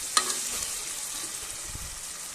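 Halved green chili sizzles and fries in a pan while cooking carrot pasta, with a steady close hiss and a brief clink near the start.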